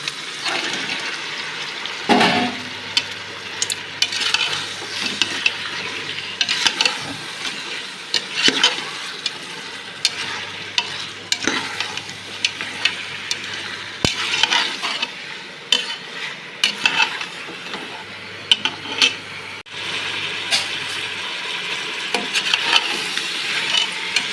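Cleaned quail pieces go into a pan of onions and curry leaves already sautéed, giving a steady sizzle with repeated scraping and stirring strokes that rise and fall throughout, close and moderately loud, with no talking.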